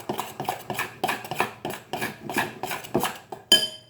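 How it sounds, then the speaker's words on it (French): A large spoon beats crêpe batter in a bowl, giving a steady run of about a dozen close, sharp knocks and scrapes against the side, ending on one louder ringing clink. "Je continue un peu à mélanger, un peu."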